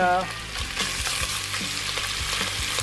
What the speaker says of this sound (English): Let's get the sausage cooked up.